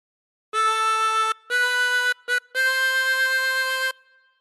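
Harmonica playing the second phrase of All Through the Night: a long held note, then another, two quick short notes and a final long sustained note, played close and alone.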